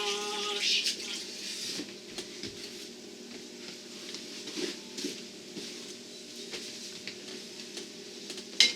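Water runs from a kitchen tap into the sink during dishwashing, a soft continuous splashing with scattered clinks and patters, fairly quiet and close, with no talking over it.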